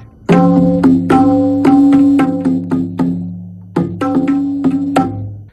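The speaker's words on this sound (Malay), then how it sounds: "Tabla bunyinya macam ni." Tabla strokes ring out in quick bursts with sharp attacks and resonant pitched tones, a short pause, then another flurry; close and alone.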